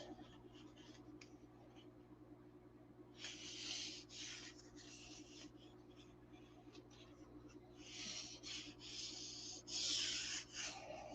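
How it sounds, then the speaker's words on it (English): Bursts of dry rubbing from sandpaper smoothing a repair on a P-47 model, coming in short strokes and longer runs close by over a steady low background hum. "Sand it off."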